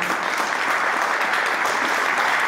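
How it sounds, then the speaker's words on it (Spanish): Steady, dense audience applause fills the whole stretch at an even loudness, with no voices breaking through, given for a former governor during a talk in Spanish. "un fuerte aplauso"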